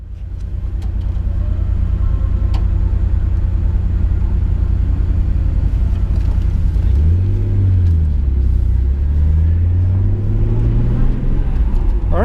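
A 1992 Nissan Skyline R32 GT-R drives on the Suzuka Twin Circuit, heard from inside as a loud, steady low engine rumble that swells and shifts in pitch as the car accelerates and changes gear.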